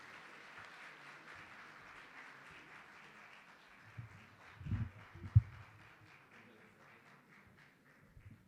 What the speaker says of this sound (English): give a warm applause to welcome on stage our panelists for this session